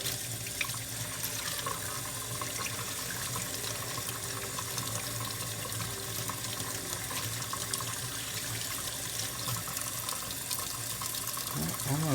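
Tap water runs steadily over a frozen Zippo lighter, a continuous close splashing hiss that barely changes, with a faint clunk near the end.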